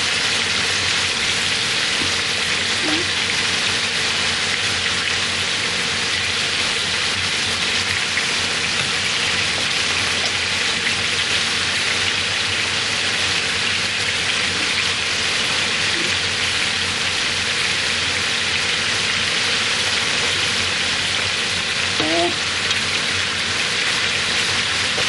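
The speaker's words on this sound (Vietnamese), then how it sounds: "Bây giờ là cái sườn mình dán là nó vàng lên giống như thế này rồi các bạn nhé." Pork ribs frying in a pan over high heat give a dense, continuous sizzle and crackle, loud and close, holding steady without pause for the whole stretch.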